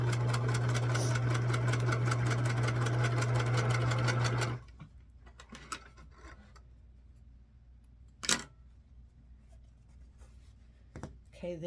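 Sewing machine stitching quilt patches for a four-patch block, a loud steady whirring hum for about four seconds that then stops, followed by quiet handling of fabric and a few soft clicks.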